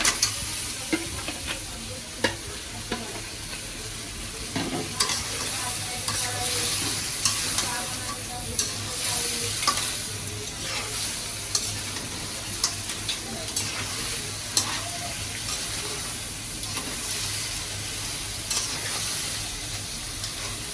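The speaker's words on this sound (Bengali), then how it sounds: "মিষ্টি মশলার উপরে কাঁকড়াগুলো এখন কষাবো।" Crabs stir-fried in a sweet spice masala sizzle steadily in the pan, with repeated scraping and clinking of a stirring spoon over continuous frying hiss, close and moderately loud, no talking.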